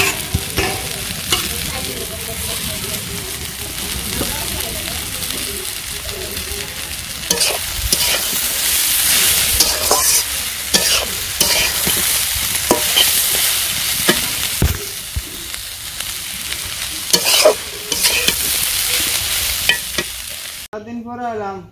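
Fish frying in a pan as it is stirred, a loud continuous sizzle broken by repeated scraping and stirring strokes, with a short quieter pause near the end, no talk.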